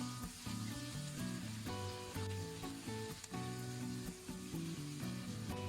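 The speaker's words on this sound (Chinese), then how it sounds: "快速的翻炒2下，炒匀。" Green vegetables for chow mein are stir-fried quickly in a hot wok, giving a close, steady sizzle under prominent background music with clear melodic notes.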